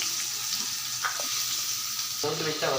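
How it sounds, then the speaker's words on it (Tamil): Onions, chili and urad dal sauté in hot oil for an agathi keerai dish, a steady close sizzle with a few stirring scrapes and louder crackling bursts near the end, no talk. "இப்போ இதை நல்லா வதக்கி விட்டுடலாம்"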